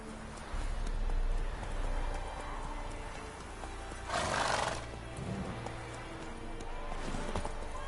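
A horse gallops with rhythmic hoofbeats in The Witcher video game, set in a fantasy medieval world, and lets out a loud neigh partway through over a low ambient background.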